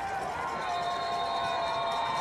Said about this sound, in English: The Green Stadium crowd getting behind their Bison.